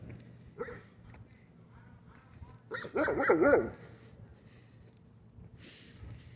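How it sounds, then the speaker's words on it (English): A dog gives a short hoarse bark burst in the middle, with faint snorts and whimpers around it against a quiet, humming background. "He's been barking too much or something."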